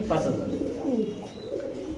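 Black Lahori pigeons coo in soft, low, rolling calls at close range, with some background noise around them.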